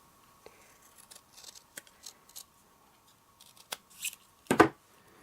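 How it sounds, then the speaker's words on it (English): Scissors snip through card stock during papercraft, a few quiet clicks and rustles leading to one sharp, close cut near the end, alone without talk. "Just take one of them and snip it again."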